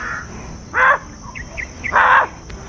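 Two loud, harsh crow caws ring out about a second apart, with faint softer bird calls between them over a quiet outdoor background.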